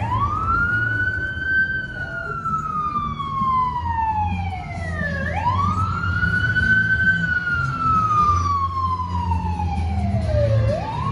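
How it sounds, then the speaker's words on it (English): A Los Angeles ambulance siren wails, sweeping up and down in long, slow cycles over steady road and engine noise, close by as it passes on a Hollywood street. "We had the Los Angeles ambulance go by us on our right hand side."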